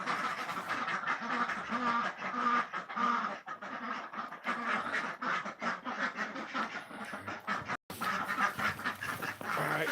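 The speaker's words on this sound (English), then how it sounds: "Ducks are running all over." A flock of ducks quacks continuously and busily as they run about in straw on a farm, loud and close, with overlapping calls throughout.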